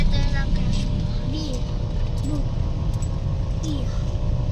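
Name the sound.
road traffic, cars passing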